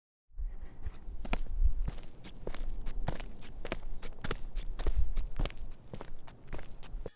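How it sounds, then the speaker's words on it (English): Minecraft walking sounds used as footsteps in a puzzle horror video game, a steady series of close, crisp steps at an even walking pace, alone without talk. "I used walk sounds from Minecraft"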